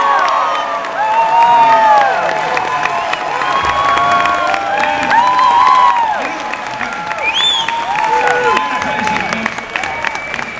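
A large rally crowd in Bowling Green roars with cheers, whoops and steady applause, loud and sustained from start to finish, with excited high shouts rising over the clapping.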